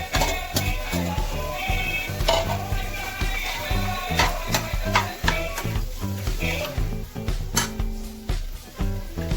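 Potato paste fries in a pan and is stirred, with repeated sharp scrapes and clinks of a utensil against the pan over a soft sizzle.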